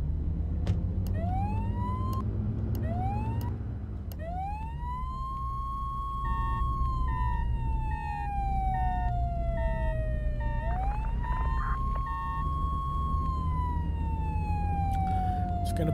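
In the game Flashing Lights, emergency vehicle sirens wail in rising and falling sweeps, loud and close, with a steady engine rumble underneath and a few short electronic chirps.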